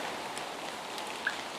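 Rain falling steadily on a soaked forest trail in Michigan's Upper Peninsula, a soft, even hiss of drops with no voices.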